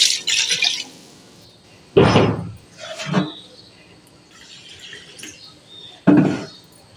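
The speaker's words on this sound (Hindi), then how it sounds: "तो यहाँ पानी डाल दूंगी मैं इसमें।" Water splashes and pours into a cooking pot of meat for bhuna gosht in a few short bursts, close by, with quieter trickling between them.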